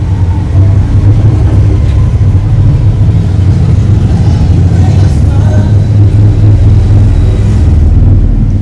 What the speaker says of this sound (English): we've got the motorbikes